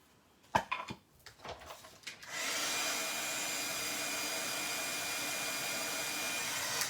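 A handheld heat tool blowing steadily to melt gold embossing powder mixed with glitter on a card, a constant whooshing roar that starts after a few light handling clicks and holds loud and even to the end.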